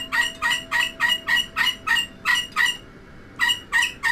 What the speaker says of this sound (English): The bird's going ballistic, as you can hear her quite clearly.